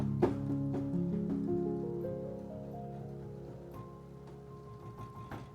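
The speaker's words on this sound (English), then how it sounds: "this is the sound of the piano below 200 Hertz" Piano notes with everything above 200 Hz filtered away, leaving only muffled low tones. Several sustained, steady notes overlap and shift in pitch, with a dull onset at the start and a fairly quiet, even level throughout.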